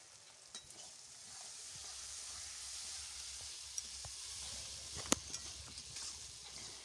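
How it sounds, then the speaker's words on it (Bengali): Spice paste with cashew and poppy seed paste fries quietly in a pan for a vegetarian doi potol curry, giving a soft continuous sizzle with occasional light scrapes and taps of a stirring spoon, faint and close, without speech. "কাজু বাদাম আর পোস্ত বাটাটা দিয়ে একটু নেড়ে নিয়েছি"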